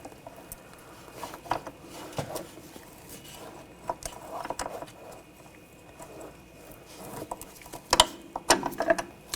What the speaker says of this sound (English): Using a 11mm line wrench, we're going to loosen up this fitting.